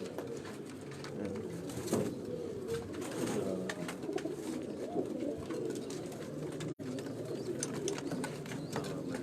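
Breeder pigeons on a rooftop coo continuously in overlapping low, throaty calls, fairly close and steady throughout, with no speech.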